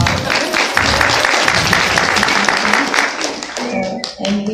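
Steady applause from a conference audience after speakers, dense clapping filling the room, with a voice briefly audible near the end as it tapers off.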